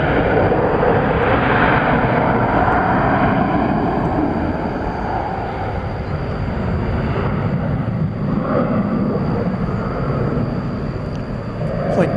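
An American Airlines jet at Dallas/Fort Worth airport at night, bound for Salt Lake City, gives a loud, steady engine roar that fills the whole stretch and swells and eases slightly without stopping.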